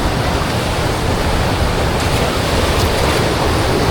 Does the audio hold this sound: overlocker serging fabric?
no